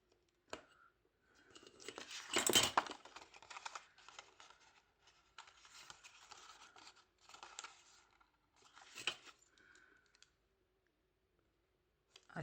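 Scissors snip through card stock for a waterfall card, making faint, quiet cuts and paper rustles close up, with one louder crunching cut near the start and sparse clicks afterward.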